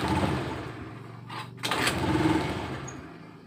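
A Honda Beat FI scooter with a fault code idles just after starting, a steady, close mechanical putter with a brief dropout and surge of revs midway, then settling back to a low idle.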